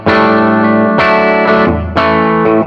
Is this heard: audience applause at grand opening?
no